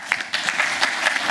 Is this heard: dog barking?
no